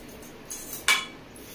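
Eggs and sugar being mixed in a bowl, heard as a brief scrape and a sharp clink of utensil against the bowl, fairly close and with no talking.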